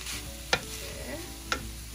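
Ground chicken yakisoba sizzling in a pan under a low steady frying hiss, with two distinct scraping stir strokes about a second apart, close and alone.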